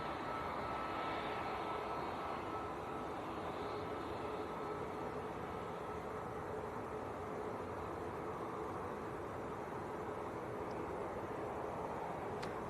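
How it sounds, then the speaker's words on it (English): A Sun Express airliner taxis along a taxiway at Manchester Airport, producing a constant far-off engine roar and broad hiss that stays level throughout, without speech. "Sun Express coming down our favourite taxiway"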